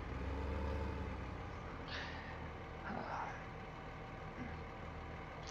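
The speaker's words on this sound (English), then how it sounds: "This is a sure comfy tractor." A tractor engine drones steadily in the video game Farm Simulator, a constant low rumble with a few faint higher blips and a voice speaking over it.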